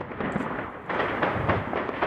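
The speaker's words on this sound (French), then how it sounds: "Une explosion," Explosion during a police tactical assault on a building in Dammartin-en-Goële, heard as a dense, rumbling broadband roar that surges louder partway through and stays sustained to the end, with no clear talk.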